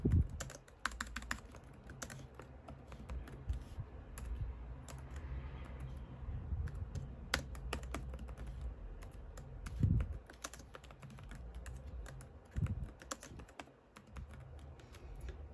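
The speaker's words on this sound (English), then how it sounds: "So first I'm gonna start off typing my name." Steady clicking of keys on a computer keyboard, with quick irregular bursts of keystrokes and a few louder taps, close by and quiet.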